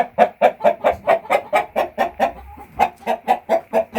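A rooster clucks in a rapid, steady series of loud, close calls, with a brief pause midway before the clucking resumes.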